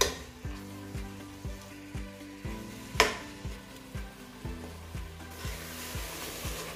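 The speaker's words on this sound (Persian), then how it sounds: "3 عدد گوجه رو پوستش رو گرفتم و خرد کردم، اونو بهش اضافه میکنم، میذارم خوب سرخ بشه" Chopped, peeled tomatoes added to onions sizzling and frying in a pan, with a steady close hiss and a faint regular stirring thump through it.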